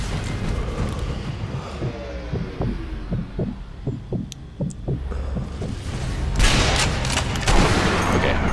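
Gunfire aimed at the player in the video game Sniper Elite V2: a run of sharp, regularly spaced shots at moderate level, followed by louder bursts of noise and impacts near the end.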